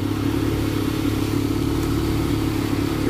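A Bezgar TX123 Chaser beginner RC speedboat runs on water, its small electric motor giving a steady, even buzzing whine with light clatter, continuous and fairly close, with no one talking.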